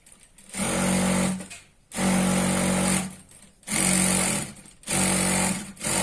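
Sewing machine stitching chudidar pant fabric in four loud, steady bursts of rapid whirring, each about a second long, separated by brief pauses, close up.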